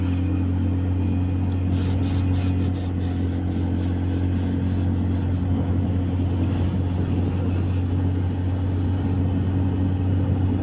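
A TVS Ntorq scooter labours up a steep hill road near Munnar, its engine holding a steady, close droning hum under wind noise for the whole stretch.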